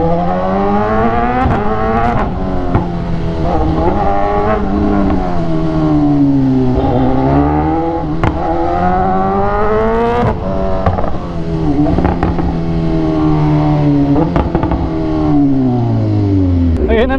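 BMW S1000R motorcycle engine held high against the limiter, a loud buzzing drone that bounces and stutters with repeated rev cuts and blips over about seventeen seconds, close to the microphone.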